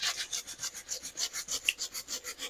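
A wire brush scrubs back and forth across the dirty sole of a Danner Bull Run moc toe leather boot, making about a dozen steady, rhythmic raspy strokes, close and alone.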